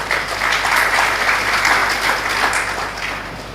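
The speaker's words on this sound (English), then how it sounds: "Please, a round of applause." Sustained audience applause at a public forum on Nigeria's economy, a dense steady patter of many hands clapping that swells briefly and then tapers toward the end, with no talk over it.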